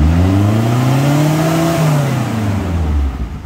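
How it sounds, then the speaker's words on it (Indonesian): A 1995 Suzuki Espass car engine revs hard up close, the loud rising roar climbing in pitch before easing back down toward the end, with no talking. "geber lagi"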